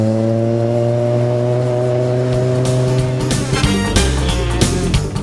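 A rally car at the 2011 KCB Safari Rally on a dawn stage south of Nairobi, Kenya: a loud engine holds a steady drone, then revs hard and climbs through several sharp gear changes.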